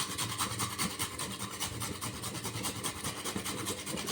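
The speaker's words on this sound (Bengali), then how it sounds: "এবার আমি এখানে 1 টুকরো আদা, এই যে 1 টুকরো আদা নিয়েছি, এটা একটু গ্রেট করে দিয়ে দিচ্ছি।" A piece of ginger being grated for a mung dal and sweet potato snack, a rapid rhythmic rasping scrape repeating about four times a second, close and steady without pause.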